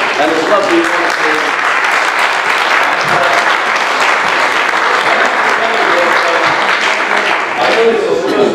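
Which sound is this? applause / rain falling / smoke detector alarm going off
applause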